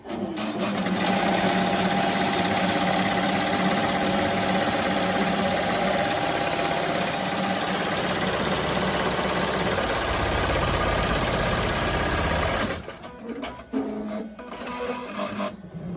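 A Melco embroidery machine stitches out a fabric face mask with a loud, steady mechanical whirr that runs continuously, then drops off near the end into quieter clicks and handling noise.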